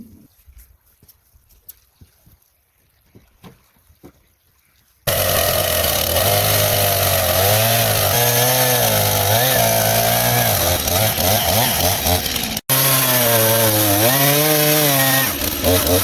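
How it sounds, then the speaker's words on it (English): A chainsaw cuts wooden planks for an off-grid cabin in a dense forest. After about five seconds of near silence it bursts in loud and close, a steady high-revving drone with one brief cutoff before it resumes. "After cutting the wood with a chainsaw"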